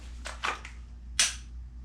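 A Glock pistol dry-fired at a wall target, a few sharp trigger snaps and clicks, close and fairly quiet, with one crisper snap after a short pause and no talking.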